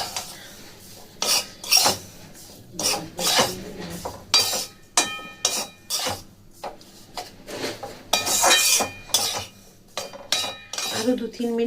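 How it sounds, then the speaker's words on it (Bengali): Corn flour roasting with ghee in a pan for laddu, stirred on low flame: repeated scraping and clinking strokes of a spoon against the metal pan in irregular bursts, close and fairly loud. "আরো 2-3 মিনিট একদম লো ফ্লেমে ভেজে নেব"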